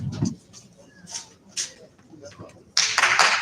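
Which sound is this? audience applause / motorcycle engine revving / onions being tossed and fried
audience applause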